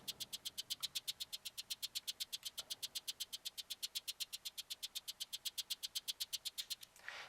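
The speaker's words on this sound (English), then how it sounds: "We've got a shaker," A shaker in a drum-machine beat ticks in a fast, steady stream of even, crisp high rattling pulses, quiet and alone, running evenly throughout.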